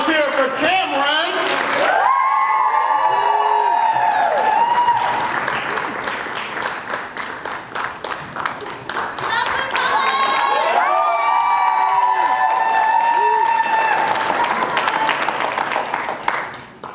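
Sustained applause and cheering from a crowd at a poetry slam final, with shouts and whoops rising in two waves over a voice speaking through a loudspeaker.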